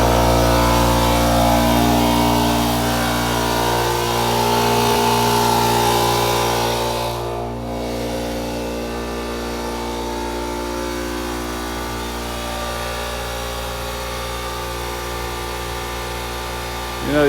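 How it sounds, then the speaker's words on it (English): An air compressor running to fill a Kenworth truck tire, a loud continuous mechanical drone with steady humming tones, holding level for the whole stretch with a brief dip partway through. "Put the air compressor back on."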